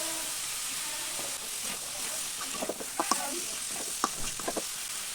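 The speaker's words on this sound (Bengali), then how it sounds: "মাছগুলোকে আমি হালকা ভেজে নিয়েছি লাভ বেশি ভাজি নেয় তো মাছগুলো আমি দিয়ে দেবো" Tengra fish lightly pre-fried and added to cooked-down spiced masala sizzle in a pan with a steady hiss, broken by sharper crackles and scraping stirs toward the end.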